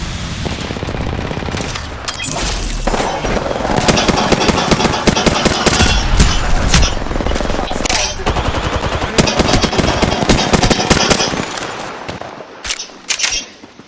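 Rapid automatic gunfire in the video game Apex Legends, loud and dense bursts that continue almost without pause, with brief game voice lines mixed in.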